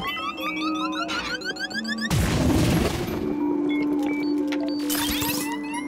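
A loud explosion bursts partway through play in Luigi's Mansion 2 HD, a broad noisy blast that cuts across ongoing game music and effects, then leaves a sustained rumbling wash under the continuing jingles.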